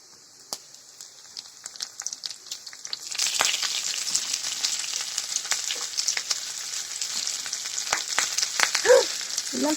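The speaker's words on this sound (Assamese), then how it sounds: "জলকীয়াখিনি অলপ সময় ভাজি লৈছোঁ মই" Chilies sizzle and crackle in hot oil in a pan after onions have been fried, part of preparing a fish roe fry; steady close frying hiss with scattered pops, quieter at first then louder and denser.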